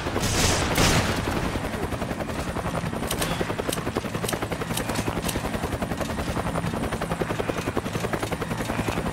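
Rapid bursts of gunfire crackle over a loud, steady helicopter-like drone, with repeated sharp shots throughout from a Resident Evil 5 battle.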